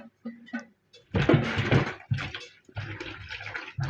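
Mushrooms being rinsed under running tap water, with bursts of splashing and pouring that start and stop several times at close range.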